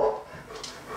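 A pet dog lets out a brief whimper and a soft bark-like yip, close by and fairly loud, with no speech over it.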